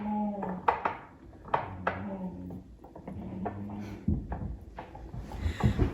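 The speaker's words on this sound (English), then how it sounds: "I'm just gonna stir it up" A spoon stirs Tabasco-style mayo made with Texas Pete hot sauce in a bowl, giving a quiet, steady run of soft scraping and light clinks close by.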